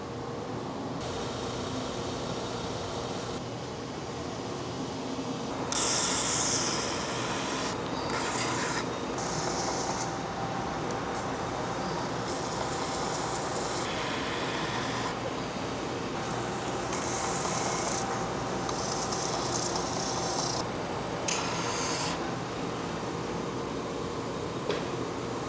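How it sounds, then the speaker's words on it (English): A sander smooths the arm contour of a guitar body, a steady loud whir with repeated rough abrasive rasping bursts as the wood is pressed against it over about twenty-five seconds. "Now I'm going to clean it up on the sander."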